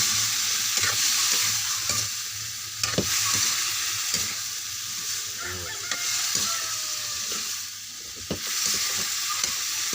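Ginataang gulay vegetables with squash being stirred in a pan: a steady sizzle and bubbling with repeated scraping knocks of the spoon against the pan, close and continuous.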